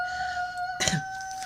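A rooster crows once, a short burst from nearby over a steady high electronic hum.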